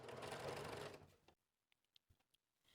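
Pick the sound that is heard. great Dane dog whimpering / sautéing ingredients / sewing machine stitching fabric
sewing machine stitching fabric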